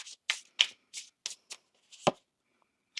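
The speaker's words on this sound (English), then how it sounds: "One more shuffle." Tarot cards being shuffled by hand close up, a quick series of crisp riffling bursts followed by a softer tap and a brief pause, with no talking.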